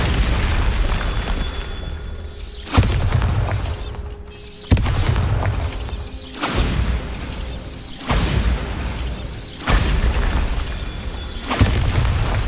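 Repeated Bombarda blasting-spell explosions in the Hogwarts video game, a series of loud, deep booming bursts every couple of seconds, each followed by crumbling debris over a dense game soundscape.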